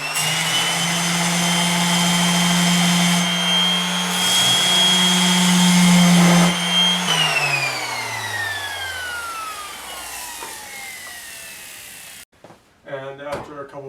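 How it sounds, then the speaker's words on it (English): An orbital sander whines steadily against a wooden bench leg, its pitch shifting as pressure changes, then spins down and stops, followed by a brief voice in a quiet room. "I had to break out the orbital sander and take a couple passes on it until it was done"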